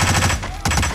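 Rapid gunfire bursts from the video game Hitman, loud and close, with a short lull mid-burst before another rattling volley resumes.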